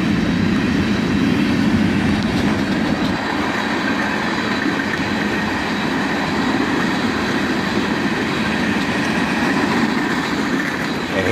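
A CSX empty hopper train led by a pair of ET44AH locomotives rolls steadily past, a dense continuous rumble of wheels and rattling empty cars with faint clickety-clack, loud and close throughout with no talk.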